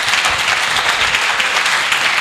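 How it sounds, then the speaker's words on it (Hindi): A theatre crowd at a first-anniversary open-stage performance event gives loud, dense, sustained applause that fills the room evenly from start to finish. "केया गुप्ता के लिए एक बार जोरदार तालियां।"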